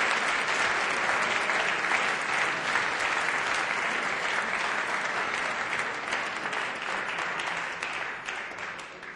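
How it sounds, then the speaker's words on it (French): Steady, dense applause from an audience at the final of a youth debating tournament, a loud wash of many hands clapping throughout that eases slightly toward the end. "Oui, des applaudissements,"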